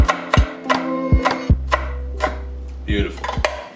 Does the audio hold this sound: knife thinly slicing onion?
yes